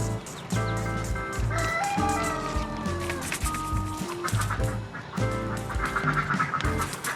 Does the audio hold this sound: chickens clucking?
yes